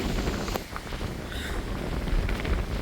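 Wind blowing outdoors along a Grayson Highlands trail, a steady, loud rumble buffeting the microphone with low gusty roar and a faint higher hiss, no voices.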